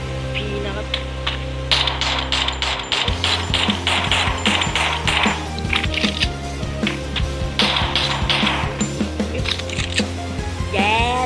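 UFP gun in the Free Fire video game, with mechanical clicking and ratcheting sounds followed by sharp, irregular bursts of shots that repeat through the clip over a low droning game backdrop.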